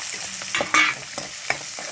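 Soaked green peas hitting hot oil in a pan and being stirred, a steady sizzle broken by a few sharp scraping stirs and a louder burst near the middle, with no talking.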